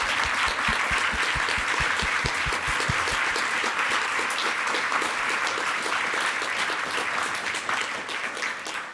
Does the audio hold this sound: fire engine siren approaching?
no